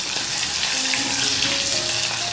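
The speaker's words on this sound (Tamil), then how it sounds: "இந்த மிளகாயை போடணும். ஜாக்கிரதையாக பார்த்து போடுங்க. நல்லா வதக்கணும்." Green chillies sauté in a hot pan with oil, giving a loud, steady sizzle and crackle that runs unbroken from start to finish, with no voices.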